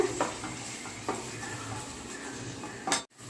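Chicken fry with salt, curry leaves and pepper is stirred in a pan with a utensil, giving scattered metallic clinks and scrapes over a soft background, ending in a sharper scrape.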